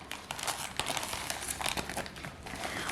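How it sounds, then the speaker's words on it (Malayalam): Close crinkling and tearing of packaging as the cover of a GoPro Hero 9 Black camera box is opened, a continuous rustle with small sharp crackles throughout and no talk. "ക്യാമറ കവർ ഓപ്പൺ ചെയ്യാണ് ആദ്യം"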